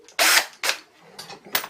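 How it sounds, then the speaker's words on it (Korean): A power drill runs in short loud bursts while tightening the bolts and nuts on a band-type metal pipe heater, three quick whirring pulses close by with brief pauses between them. "자, 이제 드릴로 이렇게, 렌치로 조여주시는 거예요."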